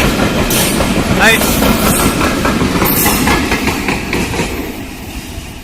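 A train hauled by a diesel locomotive rolls past close by, loud rumbling with rhythmic clickety-clack of wheels and brief squeals, fading slightly toward the end.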